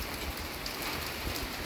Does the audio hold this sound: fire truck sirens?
no